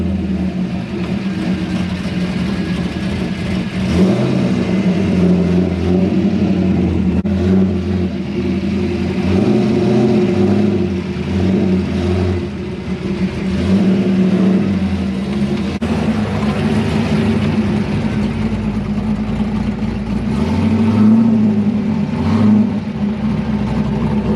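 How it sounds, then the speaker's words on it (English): A C5 Corvette creeps over speed bumps and in and out of garage and driveway entrances, its engine rising and falling in repeated low revs and swells between idling stretches, heard close and loud with no talking. "I'm going to show you guys some examples of me going over speed bumps, in and out of my garage"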